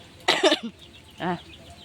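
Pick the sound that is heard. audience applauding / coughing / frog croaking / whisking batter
coughing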